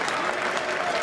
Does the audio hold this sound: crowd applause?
yes